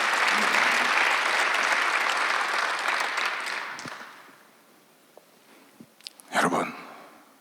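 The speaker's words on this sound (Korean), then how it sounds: "빨리 박수하세요." A church congregation applauds during a Sunday worship service with loud sustained clapping that fades after about four seconds into quiet, followed by a brief voice and a few scattered sounds.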